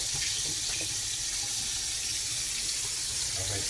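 Water runs steadily from a kitchen tap while raw chicken is rinsed under it, a continuous loud hiss with faint splashing and small knocks beneath.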